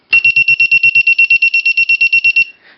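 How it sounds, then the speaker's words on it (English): A shrill piezo buzzer on an electronic paintball mine prop beeps in rapid, evenly spaced pulses after being disarmed, around twenty short loud tones in a row, then stops. "the piezo buzzer pulses a few times to tell us, okay, you've properly disarmed it"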